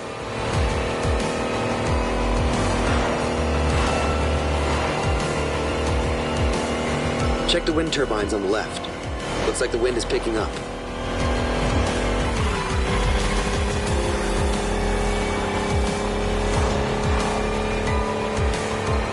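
An electric Lotus in The Crew Motorfest on PS4 accelerates hard, giving a continuous close whine with road and tire noise layered under music while game characters speak over it.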